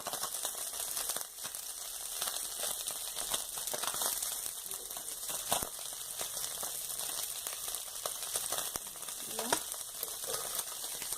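Small fish frying in a pan over low heat, a soft, steady crackling sizzle with occasional sharper pops, close and fairly quiet.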